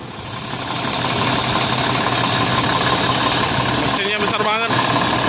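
A large Mercedes OH 1830 diesel bus engine idles steadily with a constant low rumble and drone, while a voice talks briefly near the end.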